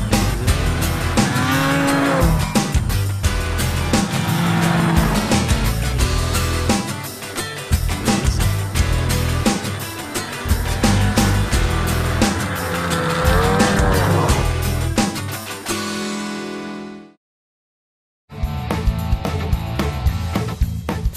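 Ski-doo Summit X snowmobile ridden on a trail, its engine loud and close with a revving, buzzing drone that rises and falls throughout, cutting out briefly near the end before returning.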